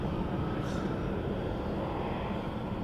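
American Airlines airliner taking off from runway 27 in San Diego, a steady broadband engine roar holding at constant loudness throughout, distant and without talk.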